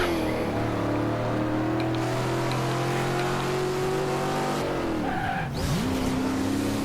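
A car in Forza Horizon 2 drives with a steady, close engine drone and tire noise, then the revs drop and climb again sharply near the end, alone without voices.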